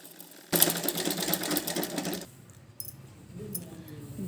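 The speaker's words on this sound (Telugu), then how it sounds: "ఈ కాజా పట్టీకి ఒక కుట్టు వేసాం కదా, దాని పక్కనే ఇంకొక కుట్టు వేసుకోండి." Sewing machine stitching a placket strip on a girl's lehenga blouse, a steady rapid whirring run of about two seconds, then stopping, with someone speaking before and after.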